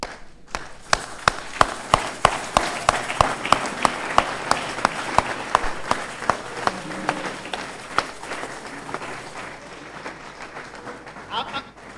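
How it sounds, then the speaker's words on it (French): A church congregation standing to applaud, with loud, evenly spaced claps striking in a strong rhythm over a bed of crowd noise. The clapping thins and fades toward the end. "Est-ce qu'on peut se lever et on peut applaudir le Seigneur?"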